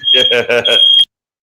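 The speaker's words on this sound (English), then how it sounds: "There goes the smoke detector." A smoke detector sounds off indoors, probably set off by heat from 3D-printer work, giving a loud, harsh electronic alarm in four rapid pulses that stop abruptly after about a second.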